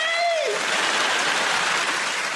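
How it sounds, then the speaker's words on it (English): A television variety-show studio audience claps in a dense, steady wash that fills the whole stretch, with a brief tonal whoop or vocal glide at the start over the loud, even applause. "Round of applause for the silly girls."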